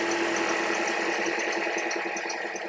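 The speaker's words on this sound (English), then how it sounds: "Let's go ahead and fire it up." A 2009 Toyota engine, just fitted with new fuel injectors, runs at a steady idle close by, its hum and rapid even ticking continuous and unbroken, with no talking.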